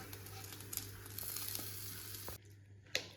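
Fried grated coconut for papaya pachadi sizzles steadily in hot oil, then cuts off abruptly as it goes into the curry, followed by quiet and one sharp clink near the end.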